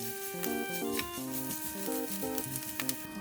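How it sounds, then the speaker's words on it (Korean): Carrots stir-frying in cooking oil with a pinch of salt for mini gimbap, a steady close sizzle with occasional light stirring, layered under background music. "식용유를 두른 뒤 당근을 넣고 소금 약간을 넣고 볶아주시면 돼요"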